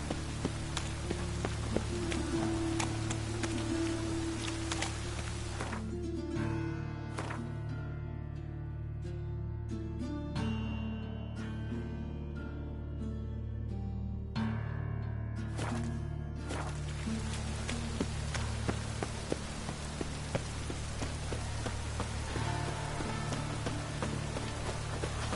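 Rain in a video game patters steadily on surfaces, a continuous hiss of drops with occasional louder hits and a low background tone, with no voices.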